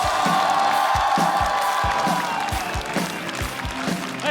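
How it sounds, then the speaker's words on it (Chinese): A stand-up comedy audience applauds and cheers as a comedian named Liang Yan is welcomed to the stage, the clapping dense and steady with rhythmic thumps and a sustained crowd roar throughout. "让我们掌声欢迎梁"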